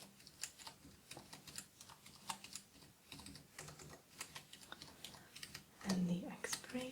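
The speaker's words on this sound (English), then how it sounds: "let me just type in the number." Rapid keyboard typing of a card number during a mermaid trinket shop roleplay, a steady run of close, crisp key clicks with soft whispered speech mixed in throughout.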